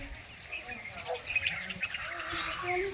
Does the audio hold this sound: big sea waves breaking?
no